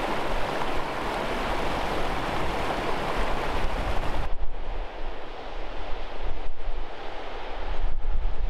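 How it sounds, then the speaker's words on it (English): A waterfall beside the River Meavy on Dartmoor rushes in a continuous broadband roar, with wind buffeting the microphone and rain-soaked ambience, the flow sound shifting and softening slightly partway through. "over here, look, there's a pretty waterfall"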